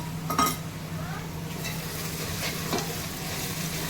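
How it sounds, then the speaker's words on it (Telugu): Poppy seed and coconut paste frying in oil for a mutton curry, a steady close sizzle with a clink of a spoon against the pan and a few stirring scrapes. "ఇది మంచిగా నూనెలే మంచిగా ఫ్రై చేసుకుందాం"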